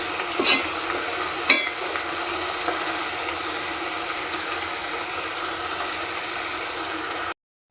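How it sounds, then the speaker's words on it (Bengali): Onions and leaves frying in a pan with black cumin, giving a steady broad sizzle with a few sharp stirring clicks and scrapes near the start, then continuous frying noise until it cuts off. "পেঁয়াজগুলো কিন্তু একদম এই দেখেন ভাজা ভাজা হয়ে গেছে"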